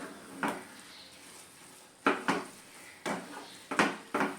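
Halwa being stirred in a pan after a ghee tadka, a spoon scraping and knocking against the metal in a few separate bursts with quiet gaps between them.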